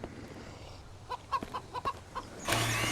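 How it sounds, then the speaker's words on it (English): Chickens in the survival video game Mist Survival give a run of short, rhythmic clucks at moderate distance. The clucking is followed by a louder burst of noise. "Chicken, shut the hell up."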